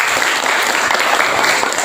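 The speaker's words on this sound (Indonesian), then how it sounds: "tepuk tangan dulu." A classroom of students claps together in a loud, close, steady burst of applause during a lesson, continuous and evenly dense from start to finish.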